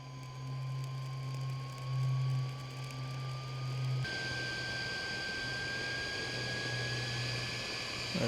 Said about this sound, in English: Right, that's the fan on full now. Right, you can really hear it's getting going now.